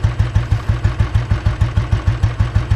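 An old Royal Enfield motorcycle with coil ignition running close by, a steady rapid thump-thump of the single-cylinder engine with an even, loping beat and mechanical clatter on top, loud and alone.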